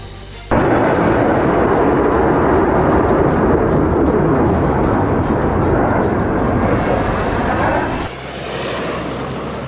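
A Eurofighter jet fighter roars past, starting abruptly as a loud, broad, sustained roar that holds for several seconds, then drops sharply to a quieter rumble near the end.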